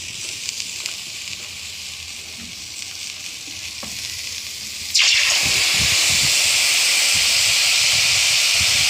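Water poured into a hot pan of fried potato and cauliflower bursts into a loud, steady sizzle and hiss that starts abruptly and keeps going, with faint stirring beneath.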